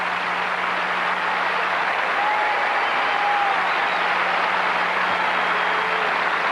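Sustained applause from a tennis crowd at the 1985 Canadian Open after a great rally, a dense, steady wash of clapping that holds at an even level throughout.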